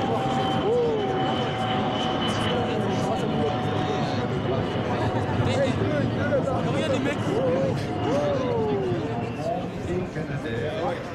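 A Beriev Be-200 water bomber seaplane flies a display at the 2011 Le Bourget air show, its engines producing a steady, fairly distant drone throughout while people chat nearby.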